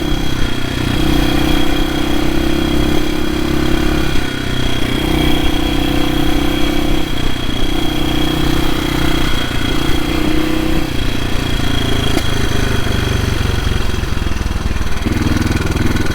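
A 1972 BSA B50SS Gold Star single-cylinder motorcycle idles steadily and close by, with an even, continuous engine note and no talking.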